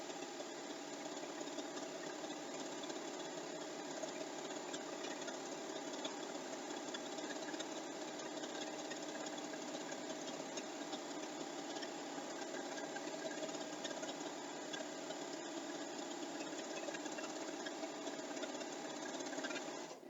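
A sewing machine stitches steadily as it quilts over fabric, a continuous, even mechanical whir humming without pause for about twenty seconds at low volume, with no speech.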